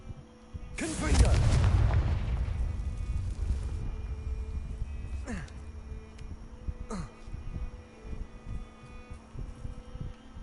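A Confringo blasting spell in a Harry Potter video game sets off a deep booming explosion that rumbles and decays over a couple of seconds, followed by fainter whooshing effects and a voice calling out.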